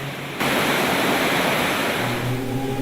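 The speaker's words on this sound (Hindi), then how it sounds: "रास्ते में पड़ने वाले प्राकृतिक झरने थकाकर चूर कर देने वाली यात्रा को सुगम बना रहे हैं।" Steady broadband rush of natural mountain waterfalls along the Kailash Mansarovar pilgrimage route, a continuous loud roar of falling water that swells after a brief quieter start and runs without voices.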